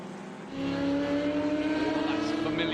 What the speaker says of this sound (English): That's familiar whirling sound of the engines.